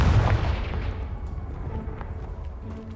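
A Confringo spell in Hogwarts Legacy blasts apart a pile blocking a stairwell, a loud low boom at the start that fades into a rumbling, crackling tail of debris.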